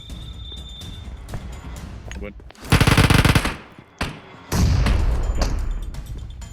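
Automatic gunfire in PUBG Mobile on the Sanhok map: two loud, sustained bursts of rapid shots with a thud between them, over quieter in-game sound.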